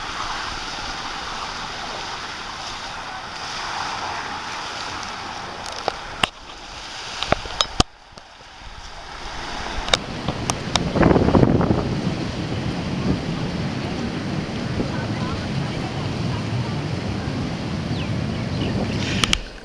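Waves washing onto a beach, mixed with gusting wind buffeting the microphone, form a steady broadband roar that dips briefly and then swells louder, with a few sharp knocks in between.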